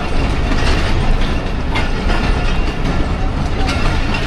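Rehman Baba Express train pulling out of Wazirabad Junction, a steady broadband rumble of wheels and carriage clatter with faint rhythmic clicks, continuous and fairly loud with no talk.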